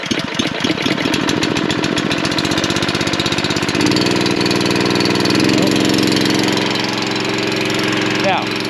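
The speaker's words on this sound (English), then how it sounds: "this pump just seems to be slower than the other one I was using yesterday" An engine-driven water pump runs loudly and steadily while filling a tank on a farm, with a constant rough chugging throughout and a slight shift in engine tone partway through.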